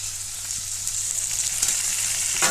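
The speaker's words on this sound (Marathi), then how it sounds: "आतां हो कांदो जालो, चड न्ही डार्क करप ना, इतलोच दवरप आं। आनी आतां भितर न्ही टमॅटो घालप" Onion and tomato sizzle and fry in a pan for a Goan green chilli clam dish, a steady close crackling hiss with a brief stirring scrape near the end and no voices.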